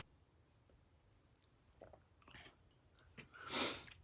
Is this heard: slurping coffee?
yes